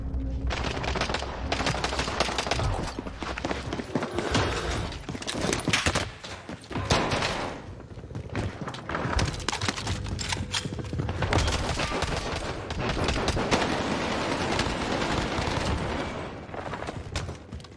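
Rapid gunfire from a first-person shooter video game, with dense bursts and continuous automatic fire throughout, at a steady, moderately loud level with no talk over it.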